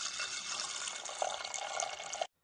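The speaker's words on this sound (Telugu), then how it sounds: "వాటర్ పోస్తున్నానండి." Water pours steadily into a pressure cooker holding chana dal for poornalu, a close, even splashing stream lasting about two seconds before stopping abruptly, with no talk.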